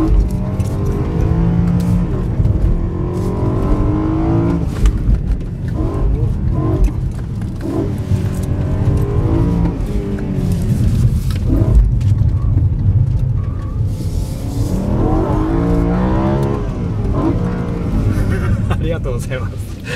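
A BMW M3 coupe with a 4-litre V8 rated at 520 horsepower, heard from inside during a ride at a motorsport event, its engine roaring and rising and falling through gears for the whole stretch. People talk over it.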